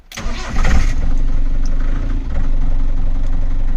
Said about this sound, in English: I'm going to try the new starter motor.